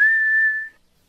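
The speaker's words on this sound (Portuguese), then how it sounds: "Estou assobiando." A single clear whistled note from a cartoon character, steady and close, holding for most of a second before cutting off into silence.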